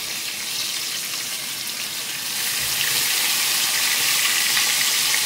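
Food deep-frying in hot oil gives off a dense, steady hiss and crackle that grows louder and fuller partway through, close and continuous with no talking.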